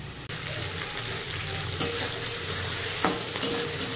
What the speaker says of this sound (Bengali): এবার ভালো করে আমি কষিয়ে নেব মশলার সাথে, হালকা জল দিয়ে এটা আমি কষিয়ে নেব